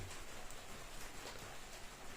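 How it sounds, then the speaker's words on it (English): Rain falling outside a campervan makes a steady, soft hiss of drops on the surface, even and continuous, fairly faint and with no voices. "You can probably hear the rain now."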